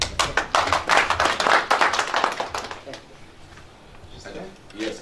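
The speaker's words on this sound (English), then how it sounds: "the applause, you are receiving here" Audience applause at a diplomatic forum with ambassadors, a burst of close, fairly loud clapping from a modest crowd over the first three seconds, then fading to a few scattered claps and room murmur.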